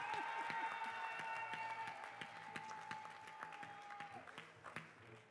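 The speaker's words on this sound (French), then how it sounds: "tu peux applaudir, Adrien, vas-y, applaudis-moi." Audience applause at a round-table debate on social security, a fairly faint, steady patter of clapping lasting several seconds with a sustained tone and scattered voices mixed in.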